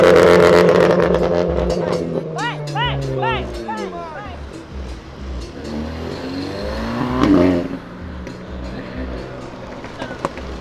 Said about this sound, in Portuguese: Mete marcha, mete marcha, Guilherme!